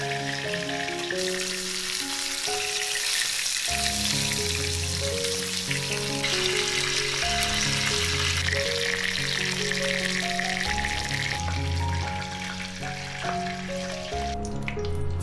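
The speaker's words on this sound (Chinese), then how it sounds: "把腌好的鱼放下来，煎到2面金黄。" Marinated sea bass fries in oil in a pan, a steady soft sizzle that runs beneath louder background music for the whole stretch.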